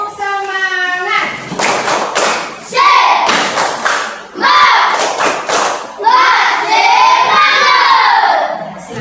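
A classroom group of teachers and students performs the tepuk semangat clapping chant, rhythmic bursts of hand claps alternating with shouted chant voices, loud and close, with cheering and thumps mixed in.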